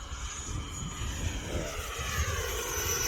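An E-flite 80mm F-16 RC jet making an inverted pass, its ducted-fan whine steady and moderately distant, with a faint rising rumble as it goes by.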